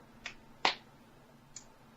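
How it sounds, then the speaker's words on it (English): A single small hand clap rings out sharply and close, flanked by two fainter, briefer taps in a quiet room. "does a little clap for you guys like this"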